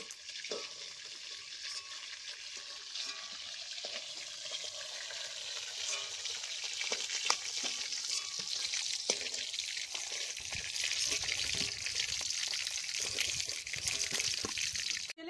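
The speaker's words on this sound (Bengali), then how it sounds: "বাকি মাছগুলো আমি ভেজে নিলাম।" Pieces of snakehead fish fry in hot oil in a home kitchen, a continuous close sizzle with occasional clinks and scrapes of stirring that grows slightly louder toward the end.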